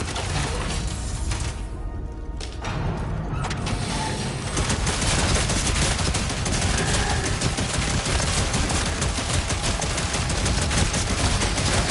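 Gunfire rattles from a weapon in a first-person video game, with dense rapid shots coming in bursts. After a short lull the firing continues loud and almost unbroken.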